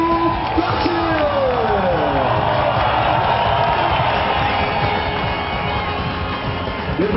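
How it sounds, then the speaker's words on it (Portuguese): A crowd at a Formula Truck 2012 race trophy ceremony cheers and applauds the winner, a continuous roar of voices and whoops over an announcer's amplified talk. "E os aplausos de vocês"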